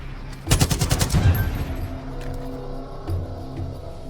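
In the Far Cry 5 video game, a short burst of rapid gunfire rattles at an explosive barrel, about a dozen sharp shots in quick succession, followed by fading rumble and a quieter thud.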